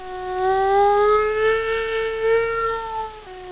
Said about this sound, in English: Tornado sirens go off when we're put into a tornado warning